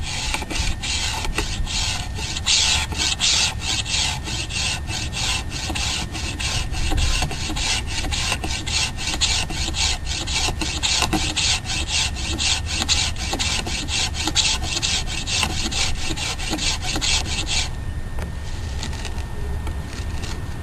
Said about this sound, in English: until you produce a large handful of wood shavings